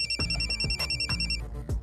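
A mobile phone rings for an incoming call, a bright electronic ringtone pulsing in quick repeated beeps with rhythmic low thumps beneath, clear and close with no talk.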